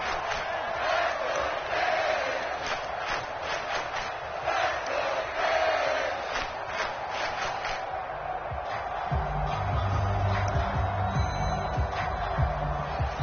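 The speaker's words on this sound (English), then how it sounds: "the crowd getting into it as we come up on a big 3rd down" Football stadium crowd at a Dolphins–Steelers game cheering and roaring steadily through a big third-down moment, a loud, continuous wash of voices with a low rumbling swell building in the second half.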